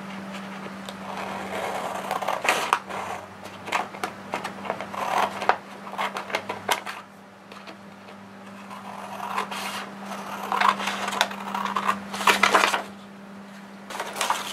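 Scissors cut through a Dollar Tree craft item for a patriotic DIY project, with repeated snipping and crunching over a steady low hum, fairly close and moderately loud, with no talking.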